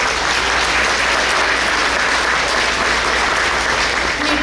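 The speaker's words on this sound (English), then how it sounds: "Let's give them a round of applause." A round of applause from a breakfast audience at the 2024 State of the District event thanks the sponsors, loud, dense, sustained clapping filling the room without a break.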